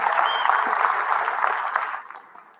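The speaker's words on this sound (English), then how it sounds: "Can you give yourselves a warm round of applause for being here?" A conference audience at a TEDx event in Detroit claps warmly, a dense sustained round of applause that fades out near the end.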